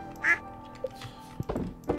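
Ducks in the Stardew Valley video game give a couple of short, nasal quacks amid soft background game music and clicks.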